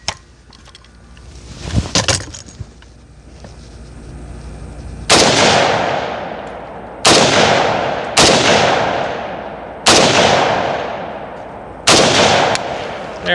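AK rifle fired at a shooting range: five loud, sharp single shots with ringing decays, spaced a couple of seconds apart, preceded by faint handling noises and a couple of small clicks.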